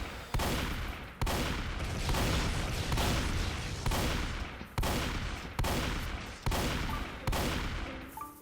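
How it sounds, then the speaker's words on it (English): Repeated loud gunshots in a killer-survival video game, roughly nine sharp blasts in a steady rhythm, each followed by a decaying boom and trailing into the next, with no talking. "Then he proceeded to get shot 20 times."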